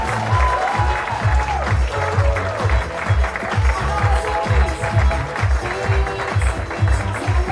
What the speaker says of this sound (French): on peut encore les applaudir